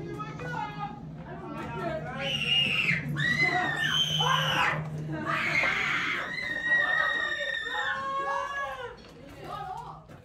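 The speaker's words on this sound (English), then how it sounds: "I wasn't screaming like these people" A crowd in a haunted house attraction, many of them younger kids, lets out repeated shrill screams and wails, with shouting voices and busy background noise throughout.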